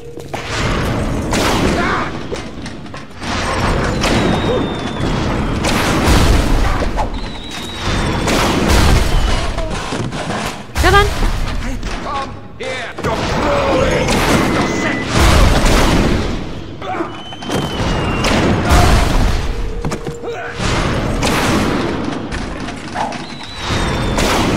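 Grenade explosions in the video game BioShock, repeated heavy booms and thuds at irregular intervals with mechanical clanks, under frequent talking throughout.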